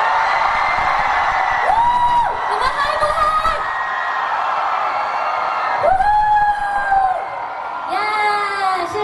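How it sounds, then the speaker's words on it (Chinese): Concert crowd at a university anniversary celebration concert screaming and cheering loudly and continuously, with high whoops and yells rising in several bursts over a sustained roar. "让我听到你们热情的尖叫声好不好"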